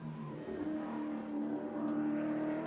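A touring car at the Bathurst 1000 under hard throttle, its engine note rising steadily and staying fairly distant and moderate in level, with no talk over it.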